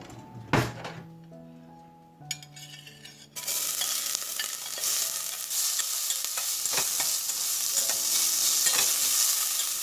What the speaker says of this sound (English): We need to brown everything till everything is softened